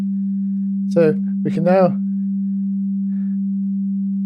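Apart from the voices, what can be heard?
synthesizer oscillator playing a sine wave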